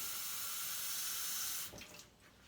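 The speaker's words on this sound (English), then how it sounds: "I am going to add a little bit more water." Tap water runs steadily into an Instant Pot for chicken-and-rice broth, a bright continuous splashing that cuts off abruptly near the end, leaving a few faint drips and clinks.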